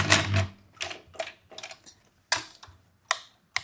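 A sewing machine runs a straight stitch about 2.5 long along the edge of a blouse, short bursts of rapid mechanical ticking broken by brief pauses, close and clear.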